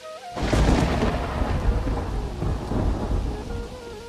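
A sudden thunderclap breaks out, then rolls on as a long, loud rumble over steady heavy rain.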